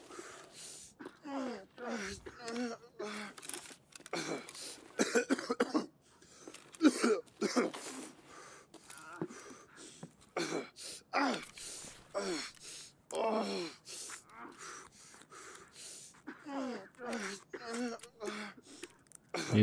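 A character coughs and clears their throat repeatedly in Escape from Tarkov, short raspy bursts mixed with gasps across a busy stretch, with people talking throughout.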